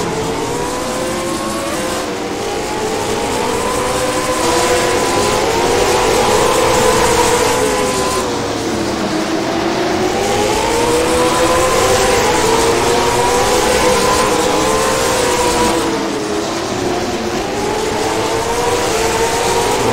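Late model race cars roar around Jefferson Speedway in a tight pack, engines loud and continuous with rising and falling pitch as they accelerate through turns and close up on one another.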